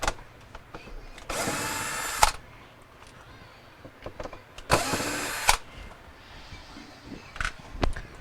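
A power drill backs screws out of a Samsung refrigerator panel in two separate whirring bursts of about a second each, close and clear, with faint handling clicks between them.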